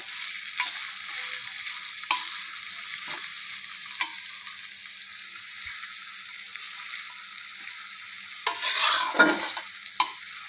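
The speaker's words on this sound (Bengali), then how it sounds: "পেঁয়াজগুলো আমি একটু বেরেস্তা করে নেব" Chopped onions frying in oil in a pan after a spice tempering with dried chilies: a soft, steady hiss punctuated by sharp spatula clicks and a louder burst of sizzling and stirring near the end, close by with no talk.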